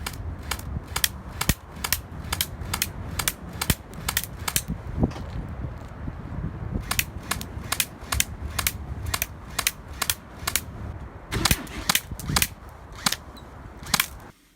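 Rapid airsoft shots strike a WARQ airsoft helmet, sharp cracks landing in quick bursts with brief pauses between volleys, over a steady mechanical rattle and hum.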